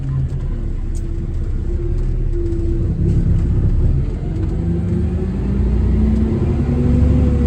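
A truck engine idles and revs at close range on a workday morning, a loud continuous low rumble that swells in spots and holds steady throughout, with no talking.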